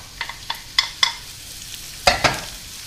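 Onion dropped into a pan of hot olive oil, giving a few short crackles and pops spaced irregularly over a faint, quiet background hiss, close and without talking.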